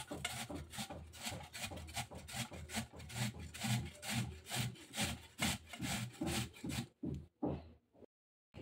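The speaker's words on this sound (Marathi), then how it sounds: "सर्वात जो मोठा आहे त्याच्याने आपल्याला ही काकडी किसून घ्यायची आहे।" A cucumber is grated on the large holes of a metal grater in steady, rhythmic rasping strokes, close and continuous for several seconds before stopping briefly.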